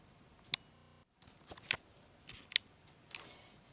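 Scissors snipping around a pinned fabric dress bodice, a few sharp separate cuts spaced apart, close but quiet with no talking.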